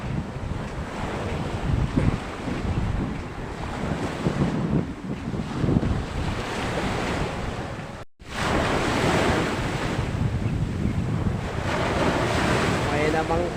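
Loud, continuous wind buffets the microphone over the rush of ocean waves, a dense roar with one brief dropout midway.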